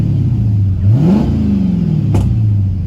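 A 2010 Dodge Challenger SRT8 with a 6.1-liter Hemi V8 cranks and roars to life close up, its pitch rising into a brief rev, then settling into a deep, loping idle.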